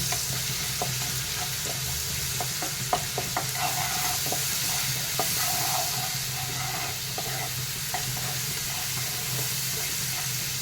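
Fish masala with chili powder sautéing in a pan, a continuous loud sizzle and hiss with repeated light scraping strokes of a spatula stirring the mixture, close up and without speech.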